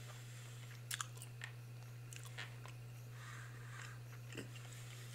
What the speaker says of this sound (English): So when you chew gum, it goes from the ball into the chewy stuff.